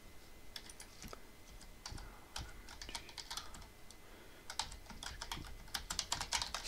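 Steady typing on a computer keyboard while setting up a KMS server on OpenWRT: a dense run of quick, close keystrokes with irregular bursts and brief pauses, and no speech.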